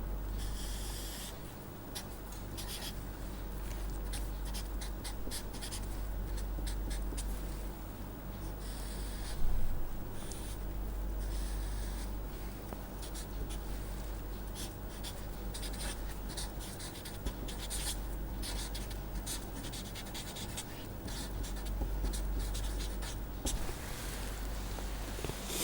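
A pen or marker scratches steadily across a writing surface while a high pass filter response curve is sketched during a filter bank lecture, with continuous close strokes and no voices.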